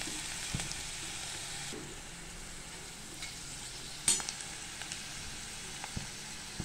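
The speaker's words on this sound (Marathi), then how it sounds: "फास्ट गॅसवरती आपल्याला ही शेंग अशी परतवून घ्यायची छानपैकी।" Guar beans being stir-fried in a pan over a high gas flame, a steady soft sizzle with occasional clinks and scrapes of stirring, fairly faint and close.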